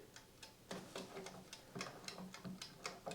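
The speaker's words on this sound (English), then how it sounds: "We can hear and the click," The manual timer of a Tefal Easy Fry & Grill EY5018 air fryer ticks steadily, with quick, faint, regular clicks close by and no other sounds.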